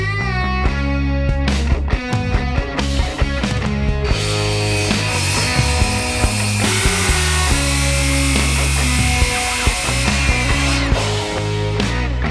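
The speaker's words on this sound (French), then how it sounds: "Il nous reste à découper la plaque sur mesure pour correspondre exactement aux cotes de la pièce." Power saw cutting a board to size for a DIY desk in a workshop, a loud sustained whine that rises and falls as the blade works through the panel, with no talk.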